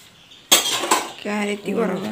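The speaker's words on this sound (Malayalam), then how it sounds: "നമ്മൾ കഴുകാനുള്ള പാത്രങ്ങളൊക്കെ കഴുകിയെടുക്കണം" Dishes and cutlery clatter loudly as they are washed and handled in a home kitchen, followed by a person speaking over the clinking.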